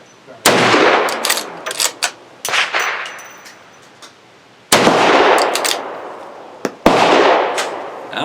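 G Force Saddlehorn lever-action .357 Magnum rifle firing outdoors: sharp, loud cracks spaced a few seconds apart, each followed by a rolling echo, with lighter metallic clicks of the lever cycling in between.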